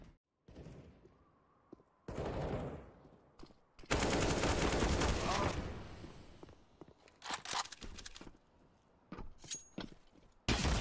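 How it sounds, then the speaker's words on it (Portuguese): Rapid bursts of rifle and automatic gunfire in a Counter-Strike: Global Offensive professional match between Liquid and 9Z, arriving in loud clusters with footsteps and brief gaps between volleys. "Acerta dois tiros, Fallen."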